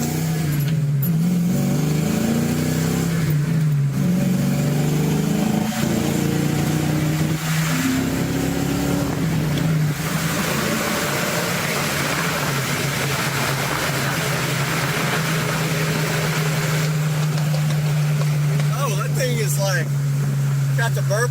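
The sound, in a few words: BMW car engine with burble tune revving and backfiring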